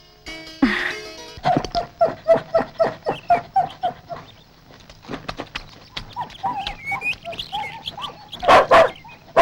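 Dogs bark in a quick, evenly spaced run of loud, close barks after a brief whine, then sharper scattered yelps follow near the end.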